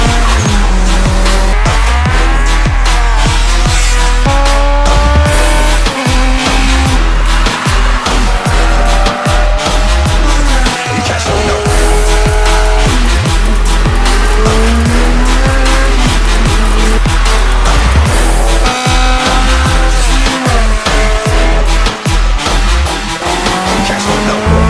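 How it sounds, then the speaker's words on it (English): A tuned, turbocharged Honda City VTEC race car screams at high revs with continuous loud engine roar, rapid gear changes and squealing, skidding tires, all close and sustained. "Say hello to the loudest Honda City VTEC in the world."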